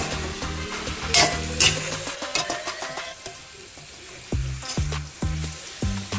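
Four or five onions fry for a chicken roast with a soft sizzle under repeated scraping and knocking strokes of a spoon stirring the pan, and no voices.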